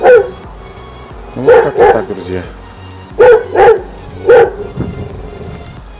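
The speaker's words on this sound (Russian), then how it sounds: "Соседские собаки разговкались." Neighbouring dogs bark outdoors in short bursts of two and three sharp barks, fairly near, with someone speaking briefly between them.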